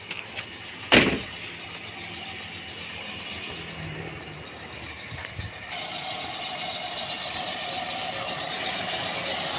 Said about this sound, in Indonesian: Nah, ini kondisi ruang mesin Kijang Super G tahun 96. Suaranya halus banget pokoknya mesinnya.